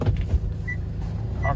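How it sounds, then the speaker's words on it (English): The auto-folding side mirror motor on a 2019 Hyundai Porter 2 refrigerated truck gives a brief whirring hum over a low idling rumble, close by. "auto folding side mirror. Working good."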